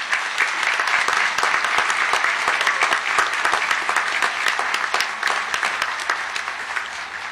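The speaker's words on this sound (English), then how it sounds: "Now we can applaud." An audience at a Memorial Day program claps together, the dense crackle of many hands sustained for about seven seconds and easing slightly toward the end, with no talking over it.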